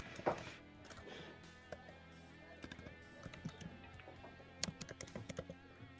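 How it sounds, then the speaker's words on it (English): Computer keyboard typing at a pool hall match, quiet and close, with irregular bursts of clicking keystrokes and brief pauses, faint room murmur underneath and no talk. "No, I was typing"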